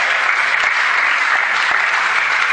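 Audience applause at a colloquium evening, a loud, dense, uniform wash of clapping hands that continues without a break.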